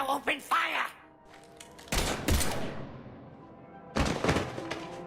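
Two loud bursts of gunfire crack out in a Mass Effect 3 firefight, separated by a couple of seconds, with character dialogue before them.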